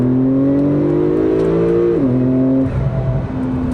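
A Porsche 911 Turbo S pulls hard in second gear out of a corner, a loud steady engine drone climbing in pitch, then dropping at a shift, with turbo whoosh and no talk.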